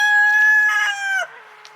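A mean homestead rooster crows loud and close, a long sustained call that cuts off, with hens clucking faintly around it and no talk.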